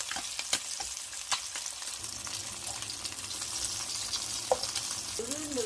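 Slices of Spam pan-fry in a skillet with rosemary added, giving a steady broadband sizzle and crackle throughout with a few sharp pops and faint utensil clinks, no voices.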